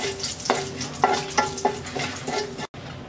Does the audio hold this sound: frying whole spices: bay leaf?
yes